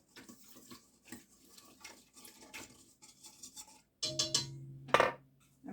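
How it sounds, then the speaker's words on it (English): Sugar being mixed into ingredients in a bowl for Easter bread, soft scraping and stirring followed by sharper clinks of utensils against the dish, close and fairly quiet. "And I'm going to add my sugar in here. And we're going to give that a mix up."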